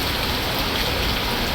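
Rain falls during a heavy downpour in Bengaluru near a flooded underpass, a dense continuous patter and hiss of drops on surfaces, steady and fairly loud throughout the short stretch with no voices over it.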